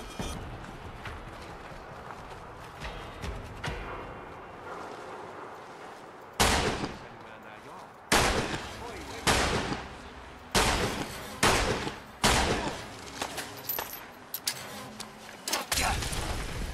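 Pistol fire in the Fallout London video game cracks out in sharp, loud reports, a few sparse shots that build into a faster run of repeated bangs, close up over low game ambience.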